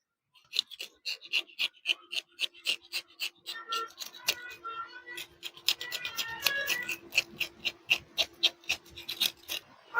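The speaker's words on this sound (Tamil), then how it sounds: "மீனை நம்ம கிளீன் பண்ணிக்கலாம்." Repeated short rasping strokes of a fish being scraped clean, about twenty quick scrapes in a steady rhythm with a brief pause midway, close and fairly loud with no talking.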